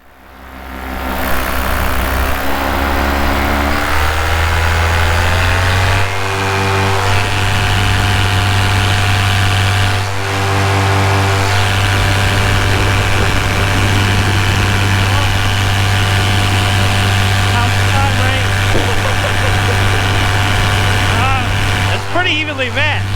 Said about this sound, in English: here's a quick full throttle climb next to my buddy, and you can just hear the RPM difference and how much more clean the motor sounds